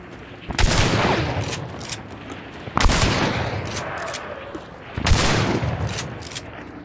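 Three booming shotgun blasts in the Hunt: Showdown game, each a sharp, loud crack about two seconds apart with a long rumbling tail, ringing out across an open outdoor setting.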